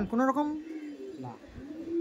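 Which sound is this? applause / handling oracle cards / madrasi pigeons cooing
madrasi pigeons cooing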